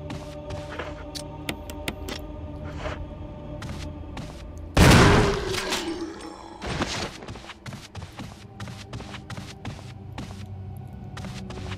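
Shotgun blast in the Resident Evil HD Remaster game: one loud, broadband boom with a decaying tail stands out against game ambience and a steady run of quieter clicks and taps.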